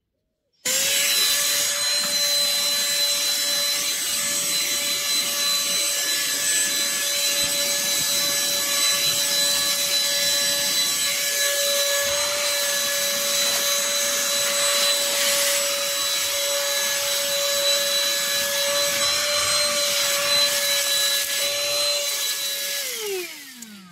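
A handheld vacuum cleaner fitted with a nozzle attachment runs for about 23 seconds as one loud, steady whine, then its pitch drops away as it shuts off. No voices are present.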